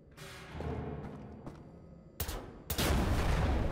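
Gunfire in Wolfenstein: The New Order on a moon base, shots at exploding gas vents: a rumbling stretch, then two sharp loud blasts, the last one opening into a sustained roaring burst.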